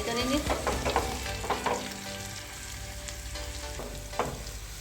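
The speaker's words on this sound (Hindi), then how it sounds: "सबसे एंड में मैं डालूंगी कड़ी पत्ते। इसको थोड़ा सा हम फ्राई करेंगे।" Curry leaves frying in hot oil for a tempering, a steady close sizzle and crackle with a few sharper pops and stirring sounds throughout, no talking.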